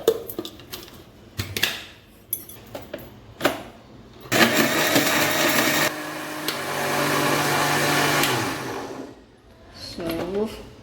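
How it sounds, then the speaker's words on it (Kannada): Mixer grinder running for several seconds as it grinds masala with tamarind and water, a steady loud whirring roar that stops abruptly, with clattering kitchen handling before and after. "ಮಸಾಲೆಯನ್ನು ರುಬ್ಕೊಳ್ಳೋಣ."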